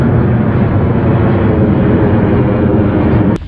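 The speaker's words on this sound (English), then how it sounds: "I've just seen a plane flying over" An airplane passes overhead near Antalya Airport, a loud, steady broadband roar that fills the clip and cuts off abruptly near the end.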